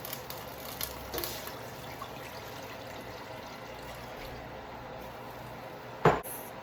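Water pours steadily into a pot of washed beans with a little olive oil, a soft continuous trickle at moderate level, with a brief clatter near the end.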